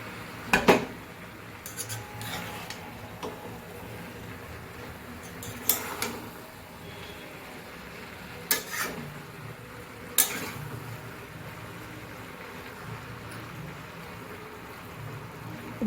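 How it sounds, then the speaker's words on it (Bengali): A pot of fish-head and cabbage curry is uncovered and stirred, with a few clear metallic clinks of lid and spoon spaced apart over a low, quiet simmer. "আবার তারপর ঢাকা তুলে আবার নাড়িয়ে দেওয়া হচ্ছে"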